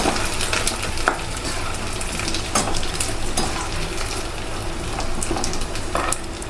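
Sun-dried flower fritters sizzle and crackle in hot oil, a close, steady frying hiss broken by a few spoon scrapes and stirs against the pan; no voices.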